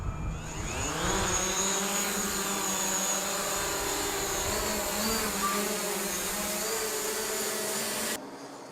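A DJI Mavic Pro drone flying in winter, its propellers giving a loud, steady high-pitched buzz with shifting tones that holds for about eight seconds, then drops abruptly to a quieter hum.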